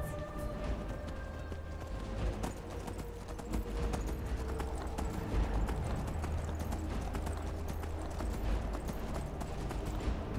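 Horse hooves clip-clop steadily on the ground in the video game Skyrim, a brisk rhythmic trot heard up close for the whole stretch with low rumbling game ambience beneath and no voices over it.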